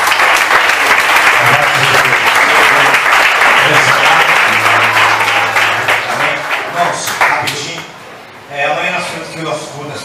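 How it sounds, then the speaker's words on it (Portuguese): Church congregation claps loudly and steadily at a Saturday night prayer service, a dense sustained applause that thins and fades toward the end, with voices mixed in. "Aplausos ao Senhor Jesus."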